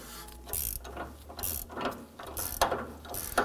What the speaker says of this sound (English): we use an 18mm wrench, and we're going to simply tighten the nuts down